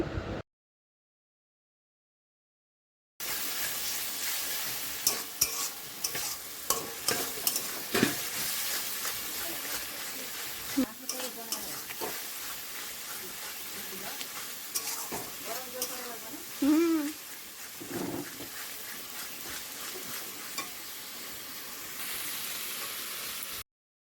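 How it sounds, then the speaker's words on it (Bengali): Oil sizzles steadily as spices fry in a pan while a spoon scrapes and stirs now and then, with occasional clinks of metal, close up and with no talking. "মশলাটা এদিকে ভাজা হচ্ছে"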